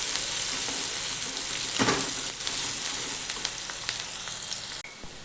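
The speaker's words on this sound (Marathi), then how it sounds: "तो कांदा टाकते. कांद्याला चांगलं मऊ होऊ द्यायचं." Chopped onion sizzles steadily in hot oil with cumin seeds as a Maharashtrian cowpea-pod curry begins, a dense frying hiss throughout with a brief louder stir-scrape near the middle and no talking.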